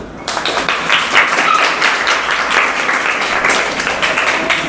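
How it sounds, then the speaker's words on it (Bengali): Schoolchildren clap together in a dense, sustained round of applause that starts abruptly and stays loud and even throughout. "হাততালি"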